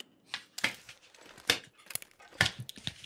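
Playing cards being shuffled and dealt during a game session, heard as a series of sharp papery flicks and snaps at irregular intervals, fairly close and moderately quiet.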